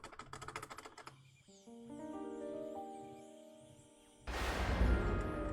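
Fast, clattering computer-keyboard mashing during a game comes in a brief rapid burst, followed by sustained synthesized game tones and a loud noisy crash.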